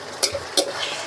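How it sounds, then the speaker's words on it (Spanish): Pieces of pork loin go into hot oil in a pan, giving two sharp sizzling bursts over a steady low frying hiss, close and fairly loud with no talking. "lo freímos, pero no se fríe demasiado porque el lomo es muy seco"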